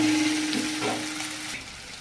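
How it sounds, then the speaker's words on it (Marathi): Potato sabzi sizzles steadily in a pan as it is stirred, with a soft hiss, a faint constant hum and a few brief scraping strokes partway through. "आपण हे खोलू आणि हलवून घेऊ बघा"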